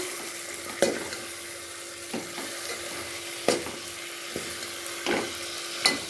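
A spoon stirs mutton and masala in a frying pan, giving a string of spaced clinks and scrapes over a steady sizzle, close and moderately loud, with no voices.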